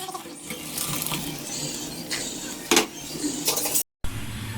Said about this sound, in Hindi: इसका पानी हम स्ट्रेनर से निकाल लेंगे।